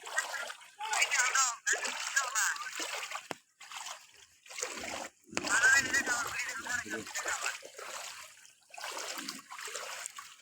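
Hill-runoff flash flood water surges across a main road in a continuous loud rush and splash, with people talking and shouting over the torrent.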